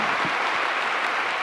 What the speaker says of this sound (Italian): l'applauso chiaramente era per Giussani